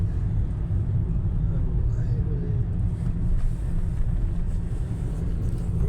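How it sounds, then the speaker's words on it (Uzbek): A car engine rumbles steadily and loudly throughout, with a continuous low-pitched drone that stays even from start to finish and carries no clear speech over it. "Mana kim ovozi kelyapti videoda mashinani ovozi"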